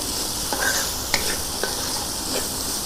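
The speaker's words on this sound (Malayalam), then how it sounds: "ഇതൊന്ന് നല്ലപോലെ വഴറ്റി എടുക്കണം" A gravy base for beef curry sizzles steadily in a pan while a spoon stirs and scrapes it a few times up close; no one speaks.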